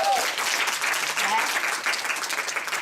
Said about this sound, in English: can we give J-Rod another round of applause?